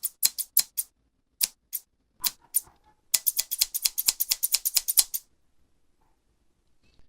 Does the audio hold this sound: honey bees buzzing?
no